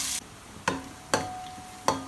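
A medium onion fries with bay leaves in a pot for beef nihari, with a soft sizzle under a few sharp scraping stirs of a spoon.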